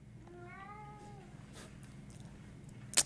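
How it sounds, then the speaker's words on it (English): A cat meows in a short rising-and-falling call near the start, fairly close and clear, followed by quiet room tone and a brief sharp click at the end. "The next case, the cat is having its own stream. He's just meowing."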